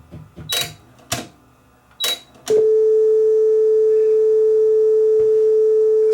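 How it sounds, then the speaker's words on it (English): An Aurex Toshiba PCG8AD cassette deck clicks and clunks through a few mechanical presses, then starts playing a tape that gives a steady, loud, unwavering test tone until the end. "the fast forward button put it into play"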